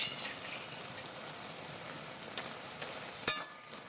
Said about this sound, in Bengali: জিরে বাটা দিয়ে সামান্য একটুখানি নেড়ে চেড়ে লাবিয়ে নেব